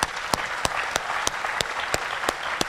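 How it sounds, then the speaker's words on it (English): An audience applauds staff at a community center's 60th anniversary celebration: steady, full-room clapping with sharp periodic accents running throughout, moderately loud and uninterrupted by speech. "I want you all to give them an applause"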